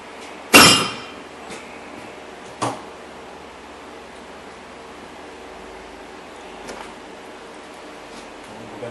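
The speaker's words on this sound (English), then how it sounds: "Just slide the fork in through the bottom between the control arm and the knuckle, and just hit it a couple times, and it pops right out." Sharp metallic strike of a hammer on a pickle fork wedged between a front-wheel-drive car's lower control arm and steering knuckle, one loud clang followed by a fainter second hit, then quiet shop background.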